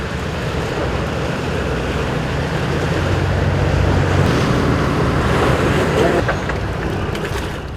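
Rough sea waves churn under strong seasonal wind near a fishing boat off Chujado, making a loud, steady roar with wind buffeting the microphone throughout, and no voices.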